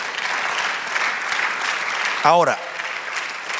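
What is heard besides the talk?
congregation applause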